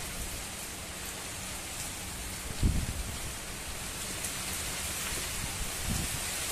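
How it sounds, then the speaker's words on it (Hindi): Heavy outdoor rain pours in a dense, continuous wash with strong wind, steady and close, with a couple of brief low thumps. "ये देखिए कितनी तेज हवाएं चल रही हैं, बारिश बहुत तेज हो रही है।"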